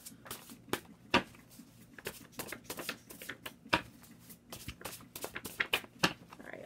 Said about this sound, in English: These are going to be easier to shuffle, but they're not, so I'm sorry